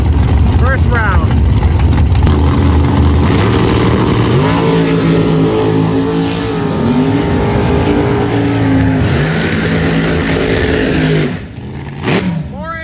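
Drag racing cars roar at a $30,000 race at Byron Dragway, their engines loud and steady with rising revs and a sudden drop near the end, while an announcer talks over them.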